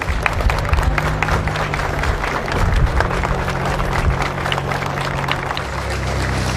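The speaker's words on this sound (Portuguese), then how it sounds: "primeiro corpo deixando a balsa, a população aplaudindo bastante" Outdoor crowd on a riverside dock claps at length as the first body from a ferry shipwreck is carried off the boat; steady, fairly loud applause with engine-like rumble and murmuring voices underneath.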